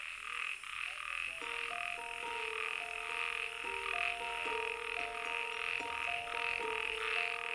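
Male toads croaking loudly at a breeding gathering, overlapping repeated calls in steady rhythm over a constant background drone.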